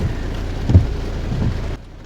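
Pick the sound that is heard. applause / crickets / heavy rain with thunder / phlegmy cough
heavy rain with thunder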